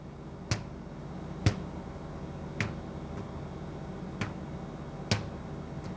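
A stretched hair band pulled and released, giving five sharp, isolated snaps at roughly one-second intervals over a faint room hiss, close and moderately loud, with no talking.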